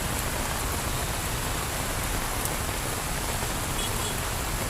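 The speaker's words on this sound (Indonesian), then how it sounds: "Hujan dari sore sampai sekarang" Heavy rain with strong wind pours down steadily, a dense, even hiss that fills the whole stretch without letting up.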